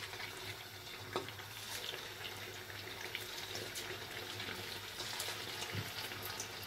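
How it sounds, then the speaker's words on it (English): Steady, dense crackling and bubbling of chicken pieces deep frying in hot oil, a continuous sizzle with occasional louder pops, close up. "The oil is hot enough, so I am deep frying these chicken pieces."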